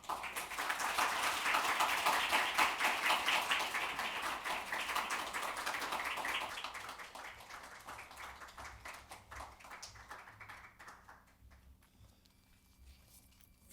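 An audience claps to welcome a prime minister to the podium at the DMZ Peace Economy International Forum. The applause is loud and dense for about six seconds, then thins and fades away.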